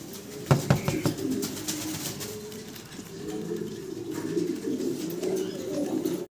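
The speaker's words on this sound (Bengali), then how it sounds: "সুন্দর এক জোড়া মোড়ানা কবুতর আপনারা দেখতে পারতেছেন" Pigeons, a pair of Mondana pigeons among others, coo in low, throaty rolling calls, close and repeated, with a few sharp knocks and flutters early on.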